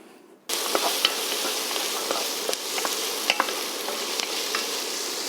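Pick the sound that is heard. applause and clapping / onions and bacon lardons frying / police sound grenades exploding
onions and bacon lardons frying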